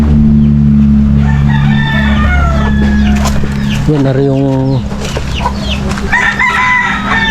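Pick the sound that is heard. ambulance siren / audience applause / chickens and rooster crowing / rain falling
chickens and rooster crowing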